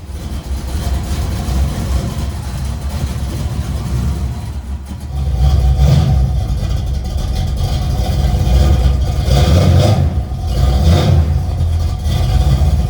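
A car engine runs as the car is backed in, a steady idle rumble that rises into a couple of louder pushes of throttle near the middle and end, close by with no talk.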